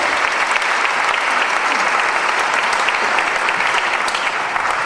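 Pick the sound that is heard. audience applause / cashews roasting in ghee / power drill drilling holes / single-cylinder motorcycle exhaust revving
audience applause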